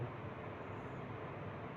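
A passenger train rolls through a forest on the way to Sri Nanded Sahib, giving a steady, even rumble and rush that holds at a constant level the whole time, with no voices.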